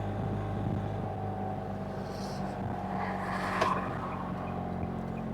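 Cabin of a Mahindra Supro commercial vehicle with the engine mounted below, giving a steady low engine drone and road rumble while driving, with a brief brighter rattle midway and no talk.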